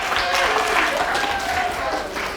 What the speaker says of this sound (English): Would you guys give Mariah a big round of applause?